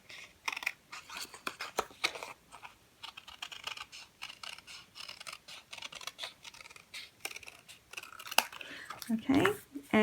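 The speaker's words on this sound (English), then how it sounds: "then we just cut that out as smoothly as you possibly can" Scissors snip out a paper card shape in a quick run of short, crisp cuts, close and fairly quiet, with a voice speaking over them.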